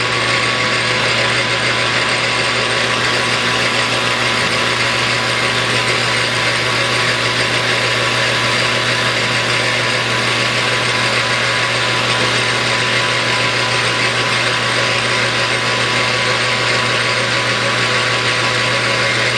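A metal lathe running under power feed while boring a Stirling engine displacer, giving a steady, loud mechanical whir with a constant gear hum and a faint ratcheting texture throughout, with no talk.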